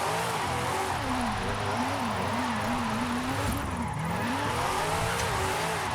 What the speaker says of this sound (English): It slides really, really easy on snow tires.